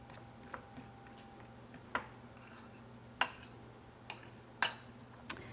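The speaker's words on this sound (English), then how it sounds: "I'm going to use my fork to cut it in" A metal fork scrapes and clinks against a bowl while cutting butter into flour to make crumbs, giving sparse, quiet taps and scrapes roughly every second over a low steady hum.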